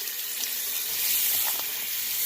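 Tap water runs into a sink to fill the drain P-trap, a steady hissing splash that continues without a break throughout, with no one talking.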